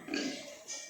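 Pigs grunting and snuffling inside a shed, a short burst of close, rough animal vocalising over a steady background hum, with no talk.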